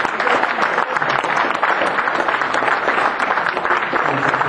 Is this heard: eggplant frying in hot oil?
no